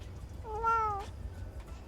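A cat in the video game Cash Cleaner Simulator gives a single clear meow that rises and falls, standing alone over a quiet low hum.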